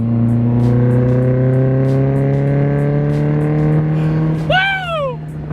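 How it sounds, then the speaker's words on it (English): Mazda Miata engine revving hard after a downshift to third, a strong rising drone building steadily and close, with a sharp chirp-like squeal near the end. "Now clutch in. Put it in third. And now gas. Hard."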